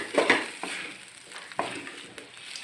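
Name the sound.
stirring and frying boneless chicken feet with seasoning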